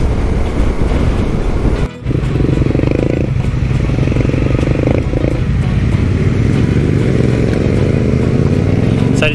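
Adventure motorcycles, including Yamaha Teneres, a BMW GS 1200, a KTM and a Honda Africa Twin, ride a dirt track on the Fleurieu Peninsula. The engines drone loudly and continuously up close, rising and falling with throttle, and wind buffets the sound throughout.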